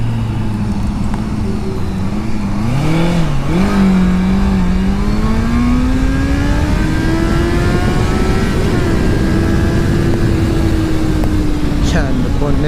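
A Honda CBR650F motorcycle engine revs in second gear, loud and close, its steady drone climbing smoothly in pitch as it accelerates.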